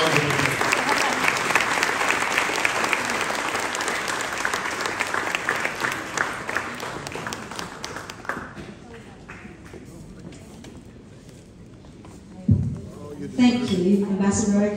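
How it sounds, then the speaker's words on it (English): At an evening welcome event hosted by an ambassador, a crowd gives a loud, sustained round of applause that gradually thins out and fades, followed by brief talking and shuffling near the end. "Please give us another round of applause."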